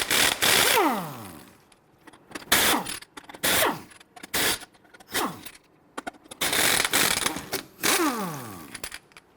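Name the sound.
ratchet with 19mm socket removing Hummer H3 lug nuts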